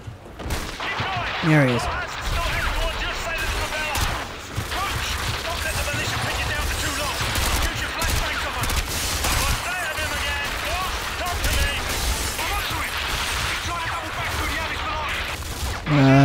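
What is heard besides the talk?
sniper rifle fire in Modern Warfare 2 video game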